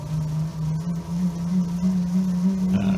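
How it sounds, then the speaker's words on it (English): Electric motor newly installed on a Catalina 30 sailboat turning the propeller shaft, a steady close-up low hum with a strong droning tone, running continuously without speech. "The motor is turning, it's turning the prop shaft, it's turning the prop."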